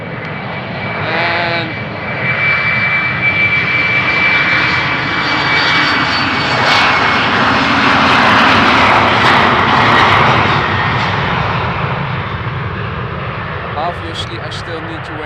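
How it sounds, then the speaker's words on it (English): An Embraer jet airliner at Amsterdam Schiphol Airport roars past near runway 36L. Loud, broad engine noise swells to a peak midway and slowly fades, with a steady tonal whine. "I was saying and announcing that this was a 737, but it's obviously an Embraer."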